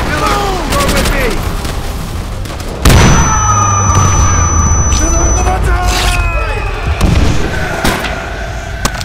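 Loud explosions boom and crackle in quick succession as demolition charges go off in Call of Duty: World at War, with a shouted voice over the blasts.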